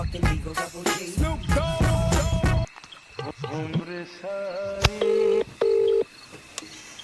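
A phone is dialed during a rowdy New Year's party, with a few short, steady keypad tones sounding clearly near the end after a busier stretch of music-like tones.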